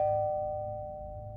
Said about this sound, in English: my doorbell finally rang